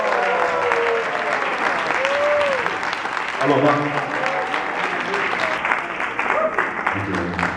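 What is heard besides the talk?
audience applause for a musician on stage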